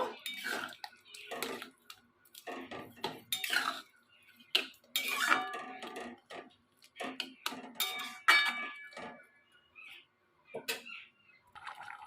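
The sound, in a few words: mixing sour curd and sugar in a cooking pot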